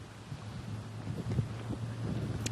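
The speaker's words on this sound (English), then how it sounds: "helicopters have been flying throughout the day, nonstop" A low, steady mechanical hum of a helicopter drones faintly in the distance overhead during Hurricane Ian, mixed with soft wind noise and no speech.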